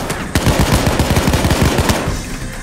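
Rapid automatic gunfire in the PayDay 2 video game, a dense burst of sharp repeated shots for about two seconds, loud and close, then cutting off.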